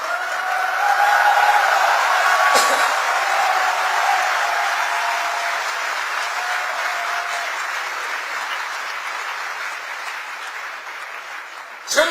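A crowd claps through a long ovation at a political event, a 2001 presidential candidacy declaration in Korea, the applause loud and sustained before gradually tapering off.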